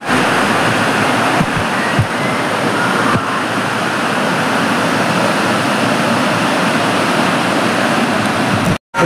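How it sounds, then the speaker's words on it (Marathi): Barki waterfall in Kolhapur roaring with strong flow, a steady broadband rush of falling water heard close and loud throughout, with a brief dropout near the end. "पाणी प्रवाहित झाले जोरात."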